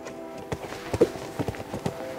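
Horse hooves clip-clopping during a show jumping warm-up on a calm horse, a steady run of soft thuds close by over faint background noise.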